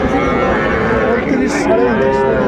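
Cattle low loudly and close amid a busy livestock market crowd, with people talking all around, at Ambari Haat in Dinajpur, Bangladesh, where young bull and heifer calves are being sold.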